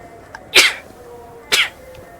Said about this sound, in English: Why do I keep sneezing?